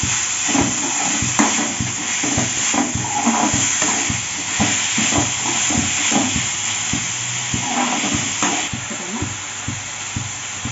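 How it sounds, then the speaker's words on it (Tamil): Onions and tomatoes sauté in a pan for a brinjal and double beans chop, with a steady close sizzle and hiss that goes on throughout, broken by repeated scraping stirs of the spoon. "வெங்காயம் தக்காளி வதங்கிடுச்சு."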